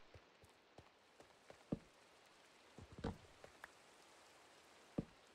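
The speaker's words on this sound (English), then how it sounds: "Of course it's raining." Rain coming down outdoors, a faint, steady hiss broken by scattered louder drips and taps, with no voices.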